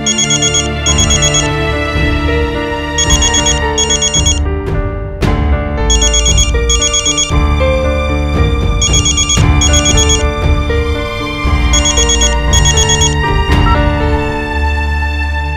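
A telephone rings unanswered, its loud electronic ringtone repeating in a steady melodic cycle of bursts with brief pauses between them, alone and close for about fifteen seconds.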